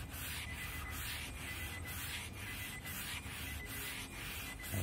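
A flannel cloth scrubs a dirty surface that is being cleaned with water alone, in steady, even strokes close up, a rhythmic swishing rub repeating about every half second without any voices.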